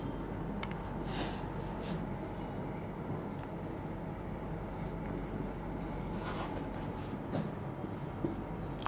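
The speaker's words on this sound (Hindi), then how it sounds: "देखिए मैं एक सेंटेंस और लिखता हूं" Marker or chalk strokes on a board as a sentence is written, soft scratchy bursts in irregular rhythm over a steady hum, with quiet breathy voice sounds in the room.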